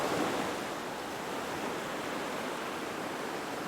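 Ocean waves washing steadily at an island shore at sunset, a continuous broad surf hiss with no distinct breaks and no voices.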